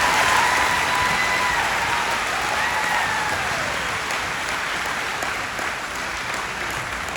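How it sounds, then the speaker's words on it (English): A large audience at a 2021 high school graduation ceremony applauds in a continuous dense wash of clapping that holds steady throughout and fades very slightly. "Please join me in applauding them for choosing to serve our country."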